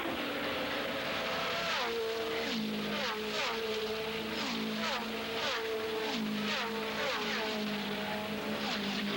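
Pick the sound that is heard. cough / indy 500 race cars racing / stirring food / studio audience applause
indy 500 race cars racing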